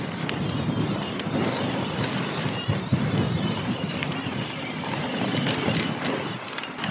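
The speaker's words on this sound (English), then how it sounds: "Oh yeah, it's real windy." Strong gusty wind roars over a mountain ski hill during a bike ride ahead of an incoming storm, a loud continuous buffeting rush filling the whole stretch.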